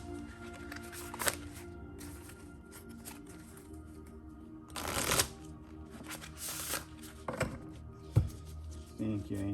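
A Starseed Oracle deck of cards is shuffled by hand in several quick riffling bursts, close and crisp, separated by quieter pauses.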